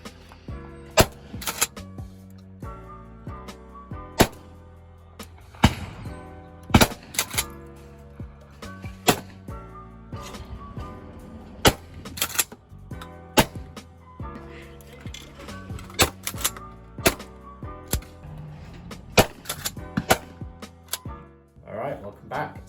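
A Winchester SXP pump shotgun firing at clay targets gives a series of sharp, loud shots spaced irregularly, with mechanical clacks between them.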